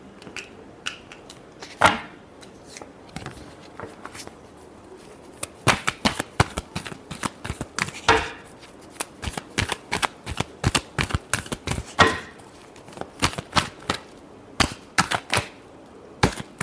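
Tarot cards being shuffled by hand in quick riffling bursts, crisp close flutters and snaps that come in irregular clusters and grow busier over time.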